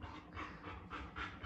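A pregnant dog in labor whimpers in soft, repeated whines between quick, steady panting breaths, close by but faint, with no talk during it.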